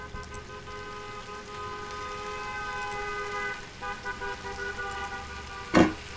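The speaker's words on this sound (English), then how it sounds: "Who drives down a road just honking their horn constantly?" In the Cooking Simulator video game, car horns toot from a street outside a busy kitchen, several short honks sounding over steady background hum, with one louder blast near the end.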